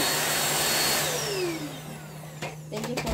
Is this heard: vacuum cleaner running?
yes